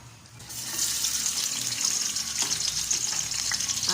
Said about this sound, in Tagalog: Lagyan na natin guys ng oil.